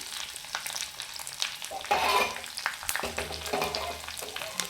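Tempering of chillies, curry leaves and cumin sizzles hard in hot oil for a pumpkin sambar, a steady close crackle with stirring scrapes and a brief louder surge partway through.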